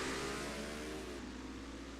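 Race cars heading out onto the track for qualifying at Talladega rev and accelerate, a mid-pitched engine drone rising and then easing off over two seconds, fairly close and alone without talk.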